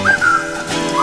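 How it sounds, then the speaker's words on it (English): A sustained tuneful whistle carrying a melody line in a song, loud and close, with music underneath and no talk. "Just push your lips and whistle, that's the thing"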